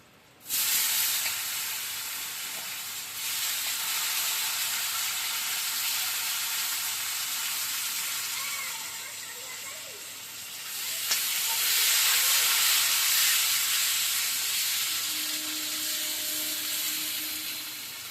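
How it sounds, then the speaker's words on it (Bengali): Cumin seeds and bay leaf sizzle loudly in hot oil, then elephant-foot yam and potato hit the pan, keeping up a steady, close frying hiss with brief bursts, for a dish cooked with tilapia fish. "এবার জিরেটা ফোড়ন দিয়ে দেবো, তেজপাতা দিয়ে দেবো, দিয়ে দিচ্ছি এবার ওল আলু।"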